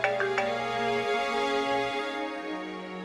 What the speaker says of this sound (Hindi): पाकिस्तान से फोन आ रहा है।